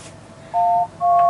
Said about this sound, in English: 1990s telephone dial tone.